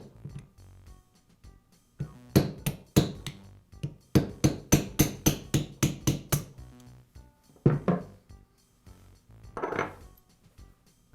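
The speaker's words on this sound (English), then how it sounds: "I'll use another socket that has a diameter just slightly smaller than the bearing race to tap it free." A socket is tapped with a hammer to drive a needle bearing free from a Makita reciprocating saw gear: sharp metallic taps, first scattered, then a rapid even run of about a dozen, then a few spaced final knocks, close and alone.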